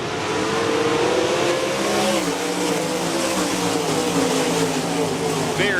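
Sprint cars, 360 class, roaring together on the dirt oval at Park Jefferson Speedway on a restart, a loud continuous engine drone with shifting pitch under an announcer's commentary.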